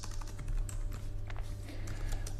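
Fingers type steadily on a computer keyboard while writing C++ code, a quiet, continuous patter of key clicks close to the microphone with no voices.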